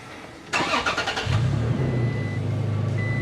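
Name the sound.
car engine starting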